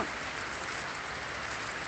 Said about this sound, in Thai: ฝนตกหนักมากเลยค่ะ